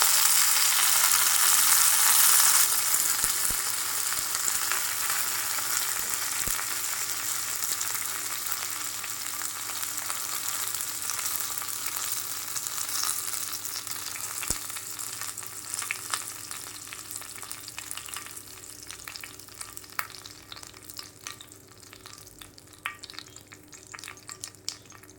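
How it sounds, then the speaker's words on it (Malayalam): Mustard seeds and curry leaves frying in hot oil for a Tamil-style chutney, a loud steady sizzle that slowly fades, with faint popping and crackling and no talking. "കടുകൊന്ന് പൊട്ടട്ടെ. ഇതിലേക്ക് ഇനിയും 2 തണ്ട് കറിവേപ്പില ഇട്ട് കൊടുക്കാം."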